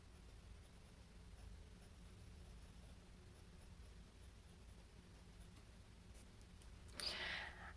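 A Pilot Plumix fountain pen with a stainless steel cursive medium nib, inked with Noodler's Golden Brown, writing on paper: faint, steady scratching close up, with a brief louder rustle near the end.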